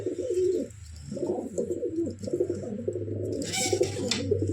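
Pigeons, Giribaj Delhi and other fancy breeds, cooing in a caged loft: soft, rolling low coos repeat continuously, with a brief flutter of wings near the end.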